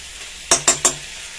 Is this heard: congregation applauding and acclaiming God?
no